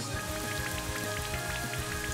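The Rain Dance move in Pokémon Brilliant Diamond/Shining Pearl triggers a steady synthesized downpour, a dense patter of falling drops with faint rhythmic tonal accents underneath, continuous and fairly loud with no speech.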